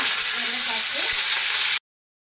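Chana dal, dried red chillies and asafoetida sizzling in hot oil, a steady close crackle with faint stirring scrapes, cutting off abruptly.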